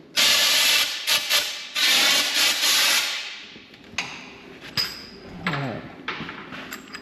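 Air hisses loudly in long bursts from a leaking hose on an IH Dresser TD20E bulldozer, then fades to quieter intermittent hissing with clanks and a brief voice.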